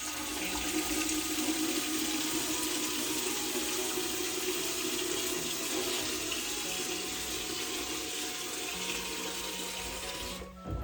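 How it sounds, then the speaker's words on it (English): Water runs steadily from a tap into a measuring vessel while three litres are measured out for home brewing, a continuous close hiss and splash that stops near the end. "we're going to measure out 3 litres of water"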